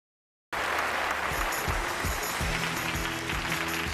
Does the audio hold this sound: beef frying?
no